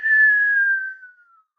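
A voice imitates the whistle of an incoming artillery shell, a single clear falling tone that fades out over about a second and a half, heard alone.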